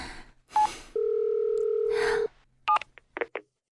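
Telephone keypad dialing tones for a call: a short beep, then one long steady tone, followed by a quick series of brief dialing beeps, alone and fairly clear.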